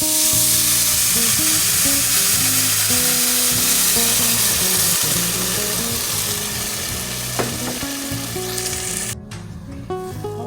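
Beef broth hits a hot pan of homemade beef rice with a loud, broad sizzle and bubbling hiss that holds steady and slowly eases, with a clank near the end.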